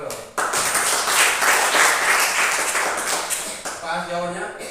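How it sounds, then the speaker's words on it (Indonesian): Audience applause erupts at a campus lecture in Ambon, brisk clapping that swells and then fades, followed by a voice starting to speak near the end. "Ya, tepuk tangan dulu."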